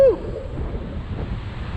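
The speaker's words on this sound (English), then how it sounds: "And extreme wind." Strong wind buffets the microphone while a small Tello drone flies in low light. The result is a steady, rumbling low roar that carries on throughout, with a brief tonal whine at the very start.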